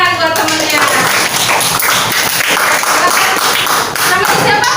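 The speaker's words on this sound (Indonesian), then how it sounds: "Tepuk tangan buat temennya." Students in a classroom clap for a classmate after an answer during an art lesson on drawing. The clapping is loud and close, uneven and lively, with voices mixed in throughout.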